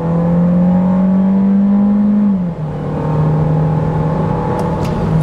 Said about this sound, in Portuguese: Então vamos lá, estolar o carro